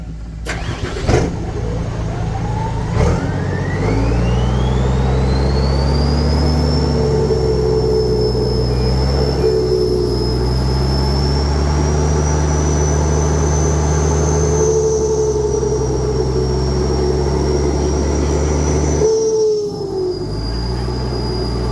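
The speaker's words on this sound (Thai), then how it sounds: "เดี๋ยวติดเครื่องใหม่ก่อน" An engine cranks and catches at about one second, then settles into a steady, loud idle that runs throughout, with a rising whine layered on top. The vehicle has a burst air line.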